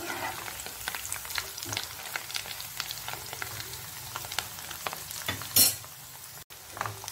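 Pieces of taro root (chamadumpa) frying in hot oil for a crispy fry, giving a steady close sizzle with scattered stirring scrapes and one sharp clatter near the end; no one speaks.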